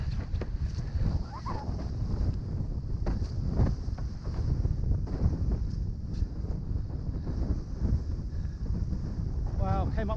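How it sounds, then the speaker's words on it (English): Wind blows hard across the microphone while windfoiling on an Armstrong 1850 HS foil, a steady, loud roar and buffeting that fills the whole stretch, with faint water and board noise mixed in. "Alright, plenty of wind now."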